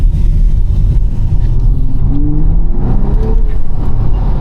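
A 2025 BMW X3 M50 (G45) engine revs loudly with a deep, throaty exhaust roar and turbo noise, rising and falling in pitch as the throttle is worked, close by and continuous.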